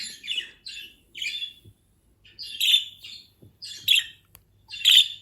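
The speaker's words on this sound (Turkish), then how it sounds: "muhabbet kuşunuza bu sesi dinletirseniz çok ötmeye başlıyor" A pet budgie chirps and squawks in a series of bright, sharp bursts of several calls each, with short pauses between them, heard alone and close with no talk.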